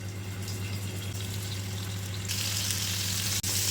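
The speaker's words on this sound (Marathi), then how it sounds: "आता आपण काय करूया ह्याला शॅलो फ्राय करून घेऊया" Chicken pieces in Malvani spice masala shallow frying in a pan, a steady close sizzle and crackle of hot oil that grows brighter and louder partway through, alone with no talk.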